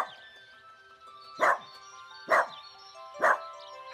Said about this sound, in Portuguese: Tem um cachorrinho.